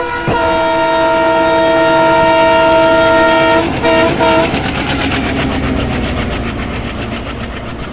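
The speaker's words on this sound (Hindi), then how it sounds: "high speed Delhi Bandra terminus अच्छे से क्रॉस कर चुका है" A WDM3A diesel locomotive hauling the Delhi–Bandra Terminus Garib Rath Express in the Open Rails train simulator sounds a loud, sustained horn, then thunders past at high speed with heavy rolling rumble that slowly fades.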